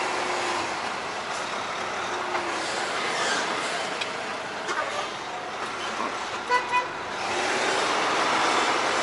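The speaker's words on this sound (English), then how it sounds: "Get a little honk just in case there happens to be somebody back here" Truck engine idling with a couple of short horn toots around the middle, followed by a hiss like air brakes; someone talks at times.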